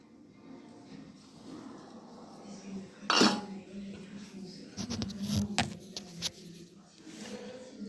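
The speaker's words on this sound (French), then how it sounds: "on prend l'assiette et on retourne le bol" A bowl of rice is turned over onto a plate in a home kitchen: one sharp ceramic clink, then a cluster of lighter taps and clatters as dishware settles, with quiet room noise in between.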